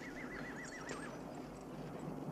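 A horse whinnies with a wavering, rising-and-falling call over a busy background of hoofbeats and ambient noise, brief and moderately close.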